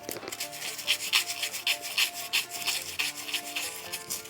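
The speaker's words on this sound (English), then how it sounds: "I can take some 220 grit and just kind of work it on the inside of the bowl" Steady back-and-forth strokes of 220 grit sandpaper rubbing inside the bowl of a hand-carved wooden spoon, a close, rhythmic scratchy rasp repeating about every third of a second over a faint background hum.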